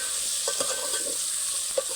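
Okra is stirred into hot oil tempered with cumin and asafoetida, a steady hiss of frying with a few light spoon scrapes and clicks against the pan.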